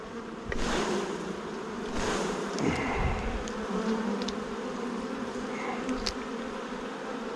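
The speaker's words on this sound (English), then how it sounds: "There's a lot of bees on there." A dense, continuous hum of many honeybees buzzing close by on a hive frame, steady and loud throughout, with a few faint clicks and knocks.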